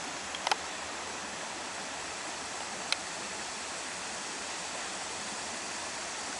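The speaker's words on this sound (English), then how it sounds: "Mill Creek flows into the Allegheny River." Mill Creek flows into the Allegheny River with a steady, soft broadband rush of moving water, constant and fairly faint, broken only by a couple of brief small clicks.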